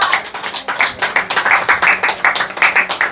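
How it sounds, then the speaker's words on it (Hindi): Congregation at a church service clapping hands together in a steady, rhythmic beat, loud and close, with no speech over it. "ताली बजाकर प्रभु को धन्यवाद दे।"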